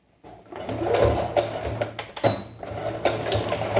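A sewing machine stitches a pocket seam on a cork tote bag in rapid bursts of close, mechanical needle chatter, broken by brief pauses and small handling clicks.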